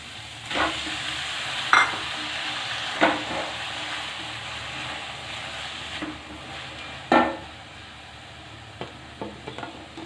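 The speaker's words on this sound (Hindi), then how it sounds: "अब हम टमाटर डाल देते हैं।" Tomatoes go into a hot frying pan for malai kofta gravy, a steady sizzle with a few sharper stirring scrapes and spoon knocks at irregular intervals, close by.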